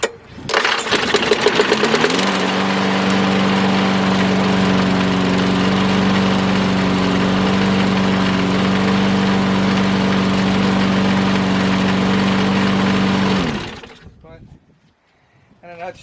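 A push lawn mower engine, due for a carburetor cleaning, sputters to life and then runs at a steady, loud, even drone for several seconds before cutting off, leaving silence at the end.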